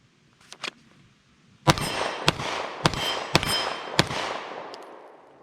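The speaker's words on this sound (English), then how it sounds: "Let's shoot the pistol." Glock 19X Gen 5 pistol fired at a shooting range, five sharp, loud shots at an even pace about half a second apart, each with a ringing echo tail, preceded by a few quieter clicks.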